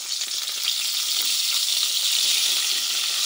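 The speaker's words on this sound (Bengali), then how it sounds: "ওই তেলতে দিলাম মুই পিঁয়াজ আর শুকান মরিচ আর তেজপাতা" Onion, dried red chillies and bay leaves frying in hot oil for a goat meat and papaya curry, a dense continuous sizzle with light stirring, close up and steady, without voices.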